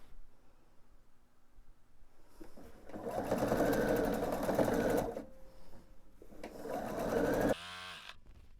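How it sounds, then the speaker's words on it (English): A sewing machine stitches a scant quarter-inch seam along a quilt border in two steady whirring runs separated by a short pause, close and clear with no talking. "I'm just going to start at the top there and sew my scant 1/4 inch seam the length of this piece"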